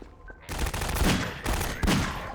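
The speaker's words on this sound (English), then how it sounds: "I shot you in the crotch." Rapid bursts of video game gunfire, sustained and loud, surging in two or three waves with a brief quieter start.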